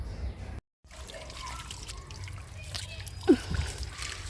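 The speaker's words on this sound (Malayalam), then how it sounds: "അപ്പം നമ്മുടെ പ്ലാന്റിനെ നമുക്ക് നന്നായിട്ടൊന്ന് നനച്ചു കൊടുക്കാം" Water pours steadily from a container onto the soil around a newly planted climbing rose outdoors. It makes a soft, continuous trickle and splash, with a faint brief gurgle near the end.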